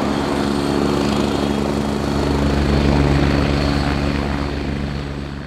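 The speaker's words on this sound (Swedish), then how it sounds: "två stycken helikoptrar med besättningar, teknisk personal" A naval helicopter aboard a ship runs with a loud, steady rotor and engine drone that swells slightly and then eases off near the end, with no voices heard.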